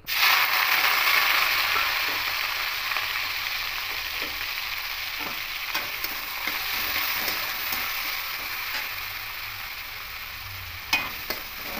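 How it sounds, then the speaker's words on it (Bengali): Onions frying in plenty of mustard oil in a wok, an even close sizzle running throughout, broken by small ticks and a couple of sharper stirring clacks near the end. "পেঁয়াজটা দিয়ে একটু হালকা করে লাল লাল করে ভেজে নেব"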